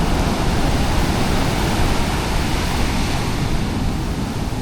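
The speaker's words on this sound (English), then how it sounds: "with the waves in the background." Waves break on Pasut Beach in a steady, broad roar of surf, loud and continuous with no voices over it.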